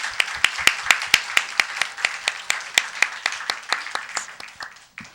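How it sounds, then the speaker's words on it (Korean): A small church congregation claps for sister Ashley during a Korean Sunday worship service: a steady run of sharp, separate hand claps at a moderate even pace, close and fairly loud, that thins out near the end. "우리 애슐리 자매의 격려 박수 드리고 싶네요"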